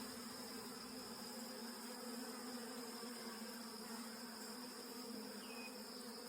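A small honeybee swarm settled inside a beehive produces a constant, close droning buzz with a steady tone and even loudness throughout, and no talk over it.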